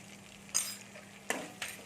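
Okra fried in a pan with turmeric and salt, giving a few brief scraping stirs and soft clinks of a utensil against the pan, spaced apart over a quiet low sizzle.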